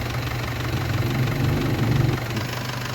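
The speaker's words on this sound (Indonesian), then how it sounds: "walaupun mesin sudah menyala" A car engine idling during a charging-system check on the alternator and regulator, a steady low rumble with a faint periodic knock, close and continuous without speech.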